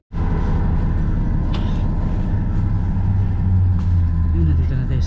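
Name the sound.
bus 361 arriving at the stop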